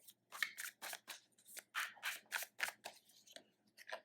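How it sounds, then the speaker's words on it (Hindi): Tarot cards being drawn and slid from a deck give a quick run of close, crisp papery swishes and flicks in irregular bursts, with no talking. "अब मैं निकालूँगी कुछ टैरो कार्ड्स आप लोगों के लिए यहाँ पे।"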